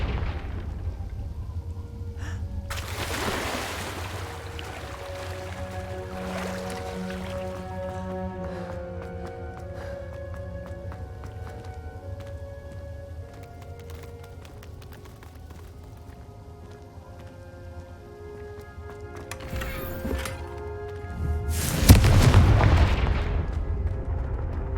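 Confringo blasting spell explosions in Hogwarts Legacy, two sharp bursts early on and a heavier, louder blast near the end, separated by quieter ambient game sound.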